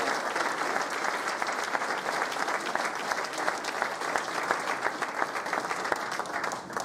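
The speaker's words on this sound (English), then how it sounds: "How about a round of applause for Karen Strummy and Bob Nygaard, despite a very busy summer, putting this together." Steady, dense applause from a ceremony audience at a 2013 athletic Hall of Fame induction, many hands clapping evenly and fairly close for about seven seconds with no talk over it.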